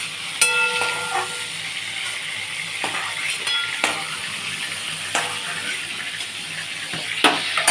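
Shrimp fry lightly in hot oil, giving a steady close sizzle and hiss broken by sharp pops and the clink of a utensil against the pan.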